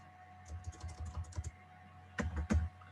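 Code is typed on a computer keyboard, a quick burst of soft close keystrokes followed by a pause and then a few louder, heavier key presses, with no talking.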